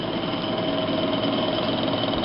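A GEI/Mateer single auger powder filler with an agitated hopper runs under power, giving a steady mechanical drone with a rapid, even rattling pulse and a faint whine throughout, loud and close.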